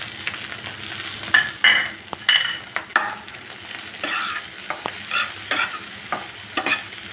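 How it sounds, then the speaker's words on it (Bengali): Egg with chopped coriander frying in a pan and stirred by hand, a steady close sizzle broken by repeated scraping stirs and clatters, no voices. "ভালো করে ভেজে নিব।"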